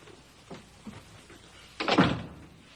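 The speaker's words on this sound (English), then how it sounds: "May I close this door?" An indoor door is pulled shut with a firm, solid thunk after a few soft handling knocks, heard fairly close in a quiet room with no talk.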